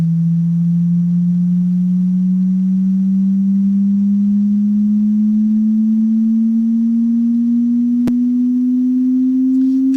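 A steady, loud pure sine test tone used for frequency ear training, holding one clean pitch that slowly glides a little higher over ten seconds, alone with no voices.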